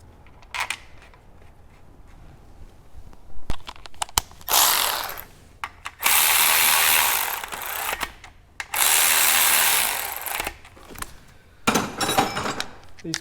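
A ratchet wrench works the two 12mm clutch slave cylinder bolts on a 2016+ Mazda MX-5 Miata, with long loud bursts of rapid ratcheting close up, broken by pauses and a few sharp clicks.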